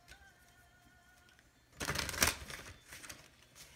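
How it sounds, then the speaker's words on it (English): Past life oracle cards being shuffled, a short riffling flutter of card edges after a quiet start, followed by a few softer handling rustles. "So now I'm going to use the past life oracle cards."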